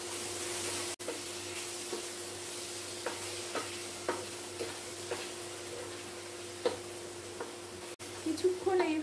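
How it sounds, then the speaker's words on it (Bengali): Ginger-garlic paste sautéing in a pan for egg lababdar, a steady soft sizzle with occasional scraping stirs and faint clicks throughout. "কিছুক্ষণ এইভাবে কষিয়ে নিচ্ছি যাতে আদা রসুনের কাঁচা গন্ধটা চলে যায়।"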